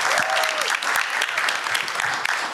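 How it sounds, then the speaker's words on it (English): An audience at a town hall applauds a panel, a dense, steady wash of many hands clapping that holds at full strength for the whole stretch, with a brief whistle-like tone rising early on. "Help me give a round of applause to our awesome panel."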